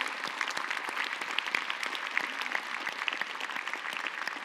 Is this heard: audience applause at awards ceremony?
yes